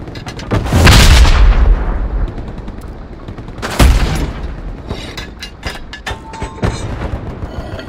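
Tank gunfire in the Hell Let Loose war game: two heavy booming cannon shots with long rumbling decay, followed by scattered sharper distant gunshots and small-arms cracks, all loud and close without any speech.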